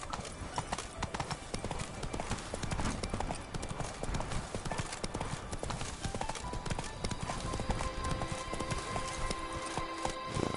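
Roach the horse galloping in a PS4 video game, with dense, fast clip-clop hoofbeats that run continuously and loudly, layered over a busy game soundscape.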